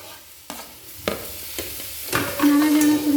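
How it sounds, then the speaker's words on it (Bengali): Coriander and cumin powder with chopped tomato are stirred in hot oil, producing several distinct scrapes of the spoon, followed by a growing, louder sizzle near the end. "আবারও তেলের মধ্যে নাড়াচাড়া করে নেব"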